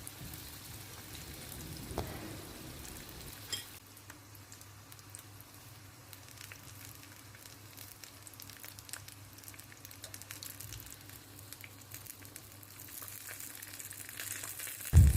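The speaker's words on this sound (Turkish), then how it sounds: "Bir miktar kızgın yağın içerisinde kalem böreklerimi kızartıyorum." Steady, crackling sizzle of kalem börek pastry rolls frying in hot oil, continuous and close, with a sharper pop near the end.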